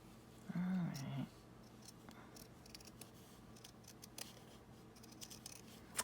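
Scissors make a short, crisp snipping burst as they cut around a paper junk journal tag, close and fairly loud, followed by quiet room tone with faint rustles and small handling noises.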